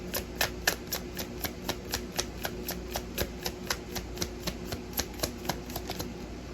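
Tarot cards being shuffled by hand, a rapid run of crisp, evenly spaced flicking clicks repeated steadily throughout at close range over a faint background hum.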